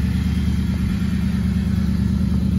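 The gas V8 engine of a 2017 Nissan Titan XD PRO-4X crew cab pickup runs close by, giving a loud, steady, even rumble throughout.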